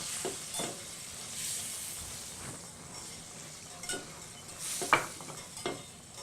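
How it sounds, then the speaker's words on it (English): Butter whisked into a sizzling chicken piccata pan sauce in a skillet: a steady soft sizzle with repeated close whisk scrapes and a few light metallic clinks, no voices. "We'll go ahead and add our butter, about 3 or 4 at a time, and we'll whisk them in."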